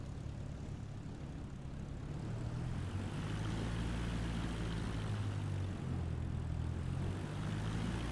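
A propeller airplane engine drones steadily in Microsoft Flight Simulator, a continuous loud low hum and buzz from start to finish with no speech.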